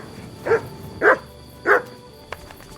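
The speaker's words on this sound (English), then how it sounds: "Why are you barking?" Three distinct barks from a dog in Kingdom Come Deliverance 2, fairly close and evenly paced, followed by a brief faint click, with no talking.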